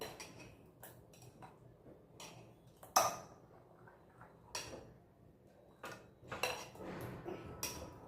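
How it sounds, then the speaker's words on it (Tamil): White sorghum and ragi batter being stirred in a bowl, with soft irregular clinks and knocks of a utensil against the bowl, quiet and close, no speech. "இப்போ இந்த மாவை நல்லா கலக்கி கொடுத்துக்கோங்க"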